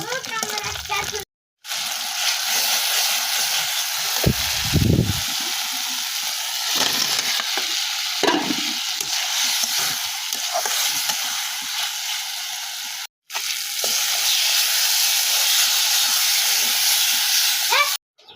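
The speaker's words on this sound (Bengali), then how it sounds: "দেখো পাঙ্গাস মাছ দিয়ে আলু দিয়ে রান্না করতেছি" Pangas fish and potatoes sizzle steadily in a pan, a continuous bright frying hiss that stops briefly twice, with a few soft low knocks from stirring.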